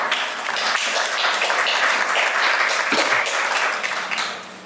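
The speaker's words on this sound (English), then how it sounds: "Big round of applause to Nathan, please." Audience applause and clapping at an accessibility event fills the room, steady and dense for several seconds before tapering off at the end.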